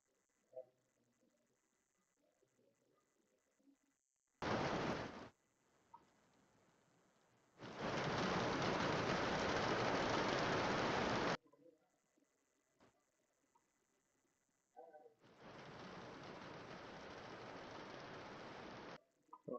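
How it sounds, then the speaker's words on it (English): Recorded rain sounds played back indoors, coming in separate bursts of dense, even hiss: a short one, then a longer steady spell, a pause, and another long stretch, with near silence in between. "we'll turn on rain sound"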